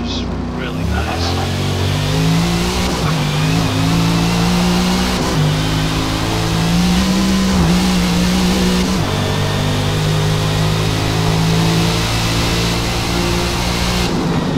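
A Corvette ZR1 engine revving in Forza Motorsport, a loud sustained mid-pitched growl with rising and falling revs and shifting tones running steadily for the whole stretch, with no break or pause.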